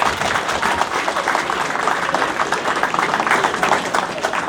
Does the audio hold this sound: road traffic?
no